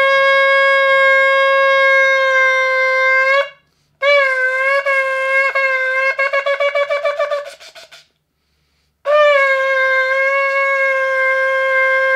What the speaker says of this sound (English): And now I will show you how we make the shofar.